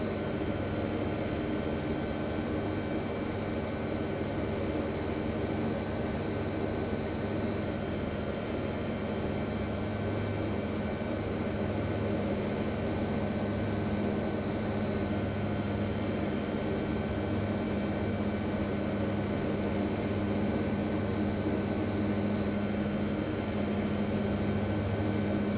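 Steady, droning turboprop engine noise from a Hawker Siddeley HS 748 airliner in cruise, rendered by a flight simulator, holding an even, constant hum throughout with no talk.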